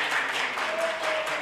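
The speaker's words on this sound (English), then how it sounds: "Give him a round of applause, everyone." Churchgoers at an Advent morning prayer service clap after a baptism, a soft, even patter of many hands heard from a distance, brief and continuous.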